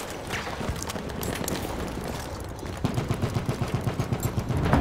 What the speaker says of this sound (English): I'm looking at a machine gun!